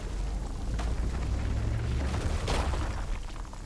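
A Rock Explosion spell cast in RuneScape Dragon Wilds, heard as a deep rumbling boom with crackling, rain-like debris that swells around the middle and lingers throughout, loud and without any talk.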